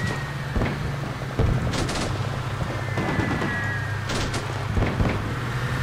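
Machine guns fire in the Combat Mission video game during urban fighting in Al Amarah, with bursts and thumping shots over a steady vehicle-like rumble and an occasional boom, loud and close.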